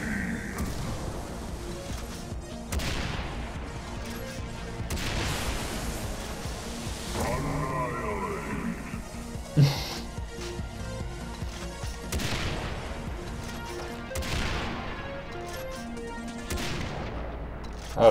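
Explosive sniper rifle fire in Far Cry Blood Dragon, several heavy booming shots spread apart over a loud backdrop of game music and effects, each blast followed by a crashing explosion.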